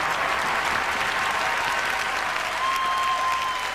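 An arena audience at a ballroom dance championship applauds the standard-category winners with dense, even clapping, continuous and fairly close, while a faint tone hangs in the background.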